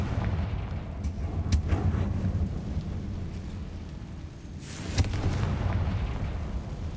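Confringo blasting spell in the Hogwarts Legacy game, a continuous rumbling low-end roar with scattered cracks and a sharper burst near the end, heavy and sustained throughout.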